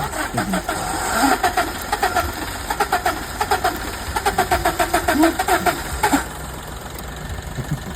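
Car engine cranking after a new coil and injector were fitted, with a rhythmic starter churn over several seconds that stops abruptly, leaving a steady background hiss.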